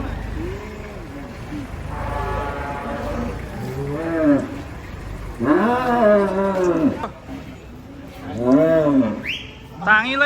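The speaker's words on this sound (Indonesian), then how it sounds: "2 sapi monster turun dari truk." Large cattle unload from a truck, bellowing in several long, deep moos, some close and loud, separated by pauses with background bustle, while people talk nearby.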